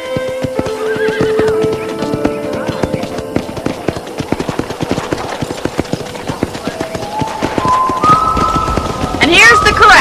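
Horses neigh and hooves clatter in a ranch corral in the Red Dead Redemption video game, loud whinnies rising near the end over game sounds, with a voice talking alongside.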